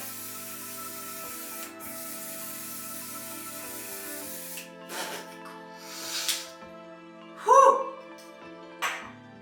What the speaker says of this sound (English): Finish it off with the one size setting spray.